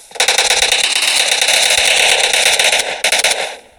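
Rapid gunfire in the mobile battle-royale game PUBG Mobile, a loud, close, continuous crackling burst of shots that briefly breaks off near the end before resuming.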